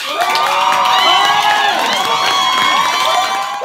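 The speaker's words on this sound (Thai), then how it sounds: "ผมขอเสียงปรบมือต้อนรับพีครับ" A studio audience at a Thai talk show cheers and shouts to welcome a guest, a dense burst of excited voices and whoops that sustains for a few seconds.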